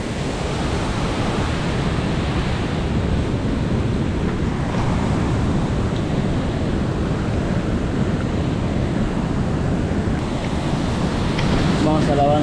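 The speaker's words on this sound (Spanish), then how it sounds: "Es el río." A river rushes steadily past a landslide site in Peru's VRAEM region, a broad roaring wash with wind buffeting the microphone throughout, loud and unbroken.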